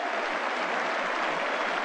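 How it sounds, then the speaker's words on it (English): Everton supporters applaud during a 1992-93 football league match, a steady, even wash of clapping from a large stadium crowd that holds at the same level throughout. "Well, the Everton fans applauding him."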